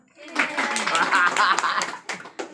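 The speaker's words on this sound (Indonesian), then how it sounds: "Yang lain tepuk tangan dong." A group of students clapping their hands in a classroom, a burst of dense clapping that rises over about two seconds and then thins out, mixed with chatter and some laughter.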